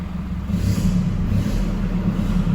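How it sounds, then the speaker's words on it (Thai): A Toyota Hilux Revo pickup with a titanium exhaust idles with a deep, steady exhaust rumble, close by and continuous, with a slight swell partway through and no voices. "เสียงท่อนะคะ"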